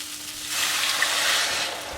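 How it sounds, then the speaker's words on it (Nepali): Water poured into a simmering pot of gundruk curry made from dried radish leaves, giving a steady broadband hiss that rises and holds for about a second before easing, with no talk. "अब पानी हाल्दैछु मैले।"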